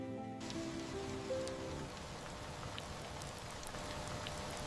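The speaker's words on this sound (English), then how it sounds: "The world grows quieter when it rains." Gentle rain patters softly and steadily, faint and continuous. A brief tonal hum fades out during the first two seconds.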